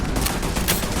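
Video game gunfire in Starfield: a dense, loud burst of rapid shots blending into one continuous rattling volley, close and without pause.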